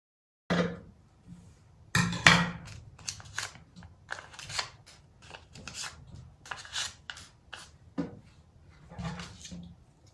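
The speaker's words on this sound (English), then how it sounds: "Next thing I'll do is I'll use a scissors to cut out the shape of the pattern." Scissors cutting out a fabric pattern shape for a fabric rose, a series of close, crisp snips and rasping slides in irregular bursts with short pauses between cuts.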